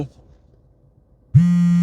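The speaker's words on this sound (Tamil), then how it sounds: "பாஸ் தான்டா ஃபோன் பண்ணுறாரு" A phone starts ringing with a steady electronic tone after a few moments of near silence; the call is from a boss at an office, and the ring comes in abruptly and holds at a loud, even level.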